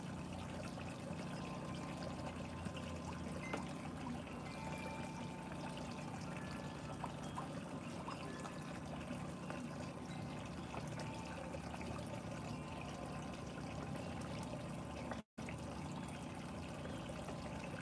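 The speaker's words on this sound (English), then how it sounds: "You gotta squeeze on this little hand pump right here until the water starts going." A squeeze hand pump on an outdoor pond being winterized draws water in a continuous trickling, gurgling flow that stays steady and fairly faint at close range, with a brief dropout near the end.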